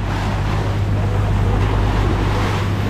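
Boat out at sea on the Pacific Ocean, a steady loud wash of wind and waves with a low engine hum running continuously underneath.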